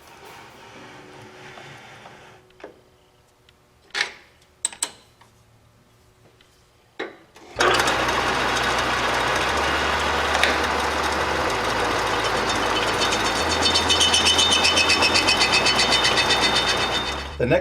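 A metal lathe facing off the end of 3/8 brass stock: a few sharp clicks and knocks in a quiet shop, then the machine starts and runs with a loud, steady whirring drone to the end.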